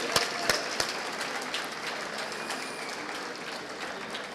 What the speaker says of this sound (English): Can we just have a round of applause for all 3 of them, please?